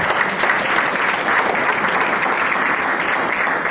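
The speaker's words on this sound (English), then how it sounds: "I think we should give them a warm round of applause" A crowd applauding steadily, dense continuous clapping from start to finish with no talking.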